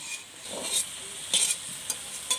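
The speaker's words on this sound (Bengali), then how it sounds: "গুগলি রান্না করার জন্য আমি আলুটা একদম লাল লাল করে ভেজে নিয়েছি।" Potatoes frying in hot oil for a Bengali freshwater snail curry, a soft steady sizzle with intermittent scraping stirs of a spatula in the pan, close and moderately quiet, with no talking.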